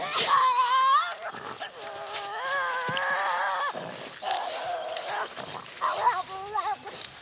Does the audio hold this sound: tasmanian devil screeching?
yes